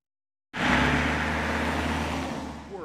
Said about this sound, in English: a photographer watched as cars sped by him